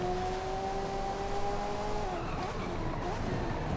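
A Ferrari F40 in Forza Horizon 5 drifts with a sustained engine drone and tire squeal, the pitch sliding down as it slides through a turn, loud and continuous.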